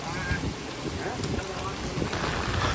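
Rain falls steadily along a busy shopping street in Nainital, a constant wash of hiss and patter with faint voices mixed in throughout.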